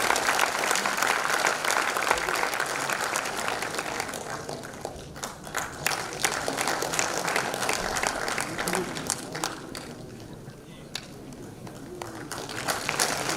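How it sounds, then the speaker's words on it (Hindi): Audience applause in a conference hall welcoming the chief guest at an inaugural session, a steady broad wash of clapping running throughout, loudest at the start and tapering slightly, with a voice speaking over it. "कृपया तालियों की गड़गड़ाहट से माननीय मुख्य अतिथि महोदय का अभिनंदन करें।"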